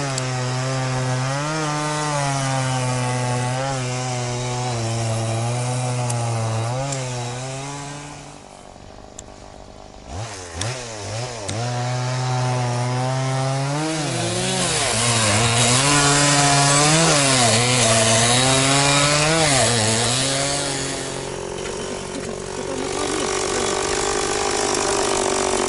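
A chainsaw runs steadily nearby for the whole stretch, sawing during an effort to raise a motorized tow sled sunk four metres deep. The engine pitch climbs and dips repeatedly, with a brief lull about midway.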